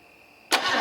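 A Chevy 250 straight-six engine cranks and fires, a sudden loud burst of engine noise close by that continues after a short quiet lead-in.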